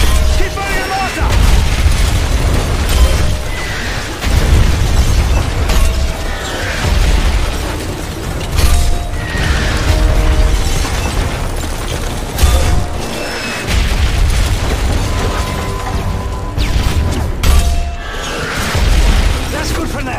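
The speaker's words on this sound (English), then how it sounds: "Put a mortar shell on it." Mortar shells explode repeatedly in the video game Call of Duty MW3, loud deep booms recurring every few seconds over rumbling battle noise and mechanical clatter.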